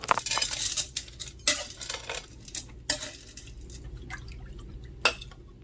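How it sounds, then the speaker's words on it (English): A utensil scrapes and clinks against the side of a bowl in quick, irregular strokes, stirring croissant pieces and chocolate chips, close up, with faint wet sounds between them. No voices. "you're going to give it a good stir to get all the dry ingredients mixed together"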